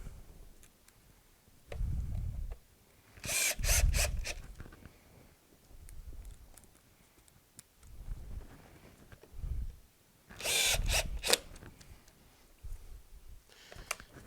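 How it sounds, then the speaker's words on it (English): A power drill drives screws into the frame of a height-adjustable table, with two short, sharp whirring bursts a few seconds apart and soft knocks and handling thumps around them. No one speaks. "So we're going to go ahead and screw it down right about here."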